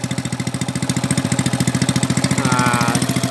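Motorcycle engine suffering from worn piston rings and worn valves, fitted with a silencer, running loud and close with a fast, steady rhythmic chugging pulse that rises slightly in intensity, with no talk.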